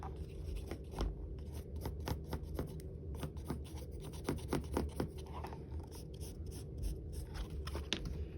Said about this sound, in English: And I like to use my pinking shears